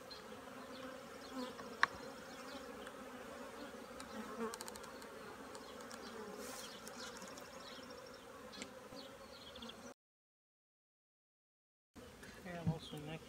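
Honey bees in a queen-rearing beehive buzz in a dense, agitated drone close by, steady throughout with a brief gap of silence near the end.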